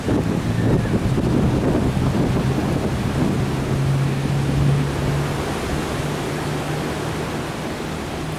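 Stormy wind by the sea at Boulogne-sur-Mer in bad weather, a constant loud rushing roar with microphone buffeting and surf beneath, steady throughout with no talk.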